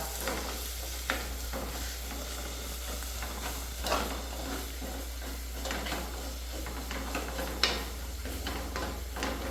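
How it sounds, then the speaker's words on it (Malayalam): Kashmiri chili powder stirred in a pan for a Kottayam-style fish curry, with a quiet background hiss of frying under soft scraping strokes and occasional louder spoon knocks, no talk. "എന്നിട്ട് നമ്മൾ ഒന്ന് നല്ലപോലെ ഇളക്കുക"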